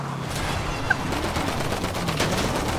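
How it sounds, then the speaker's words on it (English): Minigun fire in a video game: a continuous, dense rattle of rapid shots, loud and close, running without a break for the whole stretch. "We'll use minigun! Shoot, shoot!"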